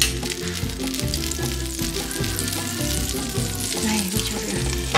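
Butter sizzling and frying in a pan, a dense, continuous crackling hiss with occasional louder pops, close and steady throughout.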